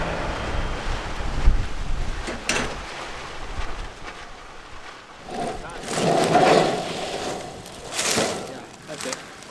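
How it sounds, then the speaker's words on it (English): High wind buffeting a house roof during ridge cap work, heard as gusty rumbling microphone wind that swells and fades in waves, with someone talking through it. "We're paying attention to the wind. It's high"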